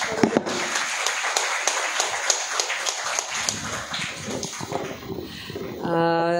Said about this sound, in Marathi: आणि खूप एकदा जोरात आपण टाळ्यांचा कडकडाट.